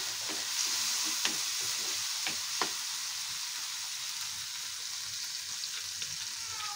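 Tomatoes fry in a little oil for breakfast, a steady close sizzle with a few light utensil clicks near the start, continuing evenly without talk.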